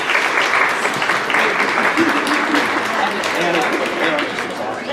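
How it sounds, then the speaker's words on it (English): Sustained applause from an audience of parents and siblings at a high school senior scholarship awards ceremony, dense steady clapping lasting the whole stretch and tapering slightly at the end. "if you could give your families a round of applause, let's please do that"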